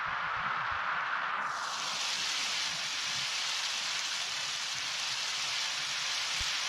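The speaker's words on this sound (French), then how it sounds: "J'ai l'impression que cette pluie va énormément saturer mon live." Steady rain in the game Undertale, a dense, even hiss of falling water that swells in just after the start and then holds constant and loud throughout.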